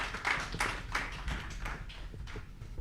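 Audience applause follows the introduction of the Honourable Fouseynou Ouattara, vice-president of the CNT defence commission, at a forum: a few dozen hands clapping in a steady, moderately loud patter for about three seconds, with no voices.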